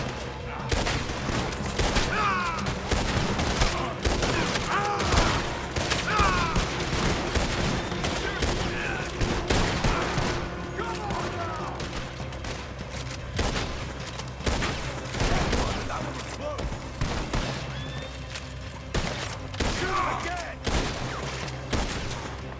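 Dense bursts of gunfire fill a Red Dead Redemption 2 shootout, with rapid overlapping shots ringing out continuously at close range, loud throughout, while voices occasionally call out underneath.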